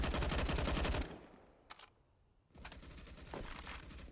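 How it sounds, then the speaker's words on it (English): Rapid gunshots in a Counter-Strike match on Overpass, a loud continuous burst that cuts off into near quiet, a lone shot, then more tapping fire resumes. "Shots tippity tapping away."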